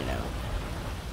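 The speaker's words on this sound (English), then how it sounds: "it's fucking raining out" Rain falls outside in a steady, faint wash of broadband patter with no distinct drops standing out.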